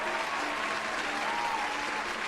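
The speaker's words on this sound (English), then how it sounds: "give her a round of applause for doing that." A round of applause from a crowd, dense steady clapping that stays even and full for a couple of seconds, heard alone without voices.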